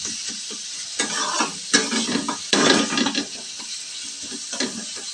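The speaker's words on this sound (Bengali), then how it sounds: "এটা কাশ্মীরি লঙ্কা গুঁড়ো ঝাল হবে না এটা কিছুক্ষণ ভাজবো" Kashmiri chilli powder fries in onion masala as a utensil stirs the pan, giving rhythmic scraping strokes over a steady oily sizzle, close and fairly loud with no talking.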